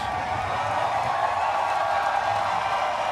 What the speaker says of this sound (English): The crowd roars for the most popular driver.